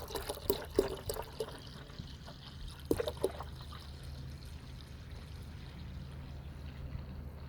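Soapy water trickles and splashes into a container as it fills and foams, a faint, steady flow broken by a few brief sloshing bursts near the start, while working on a Mercedes-Benz 300CE W124.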